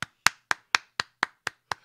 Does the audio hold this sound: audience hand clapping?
yes